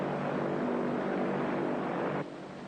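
A propeller airplane in flight, heard from inside the cabin in a 1935 film, gives a loud, steady engine drone. It holds constant, then drops slightly in level near the end.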